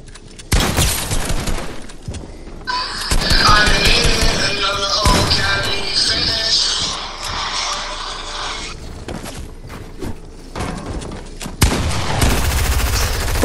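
Gunshots in the Fortnite video game, including pistol fire, a string of sharp reports and rattling bursts at close range over a steady backdrop of game noise, with faint speech at moments.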